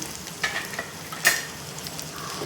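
A seasoning of crushed garlic cloves fries in hot oil with a soft, steady sizzle, close by, with a couple of faint clinks and no talking.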